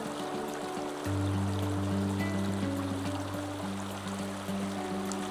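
A creek flows steadily with a broad, continuous water rush, close and fairly loud, joined by a strong low droning hum from about one second on.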